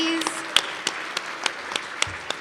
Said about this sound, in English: Please join me in giving them one final round of applause to all of our honorees